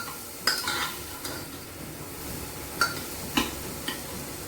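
Tomatoes cooking down in a pan, a low background sizzle with a few sharp clinks and scrapes of a spoon stirring at irregular moments, close and faint.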